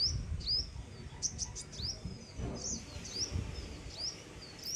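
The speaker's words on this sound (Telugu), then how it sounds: "మంచి పక్షుల సౌండ్" Small birds chirp and tweet near a tamarind tree, with scattered high calls over a soft outdoor background rumble.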